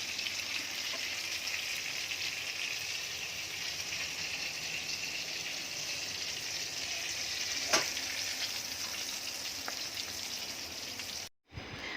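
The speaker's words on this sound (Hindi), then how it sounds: "एक इधर भजी फ्राई कर रही हूँ, एक इधर मच्छी फ्राई कर रही हूँ" Bhaji and fish frying side by side in a pan, a steady close hiss of sizzling oil throughout with a single sharp tap near the end before it cuts off briefly.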